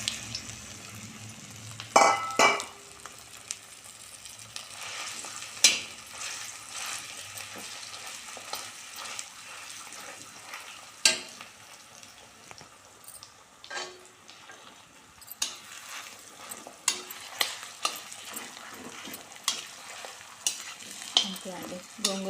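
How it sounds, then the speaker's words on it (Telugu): Ground gongura paste fries in tempering in a kadai, a soft continuous sizzle broken by repeated scraping and clattering stirs of a spoon against the pan, close and alone with no talk. "ఇందులోకి మిక్సీ పట్టిన గోంగూర వేసేస్తున్నాము."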